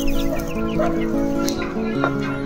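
A chicken chick peeps in short, repeated high calls among clucking fowl close by, with people talking over the sounds.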